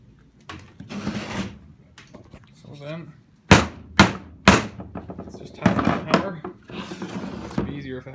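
Hammer blows knocking on a plastic condenser part of a tumble dryer, several sharp loud thumps in quick succession amid handling clatter and someone talking.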